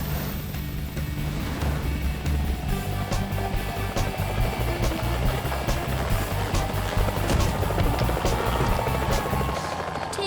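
A cartoon helicopter flies close by, its loud, steady rotor thump and engine drone continuous throughout, with a few sharp clanks and no voices.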